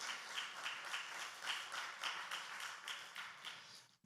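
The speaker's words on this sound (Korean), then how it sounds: "우리 축하의 박수 하겠습니다." A church congregation claps together in celebration during a Sunday morning service, a steady crowd applause with faint rhythmic pulses that holds for about four seconds before tapering off at the end.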